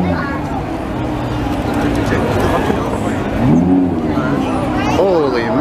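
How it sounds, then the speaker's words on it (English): A Corvette V8 cruising Montreal streets during Grand Prix weekend burbles low and steady beneath close, excited talk, with a brief rising rev near the end. "the Corvette has got the nicest burble on that V8"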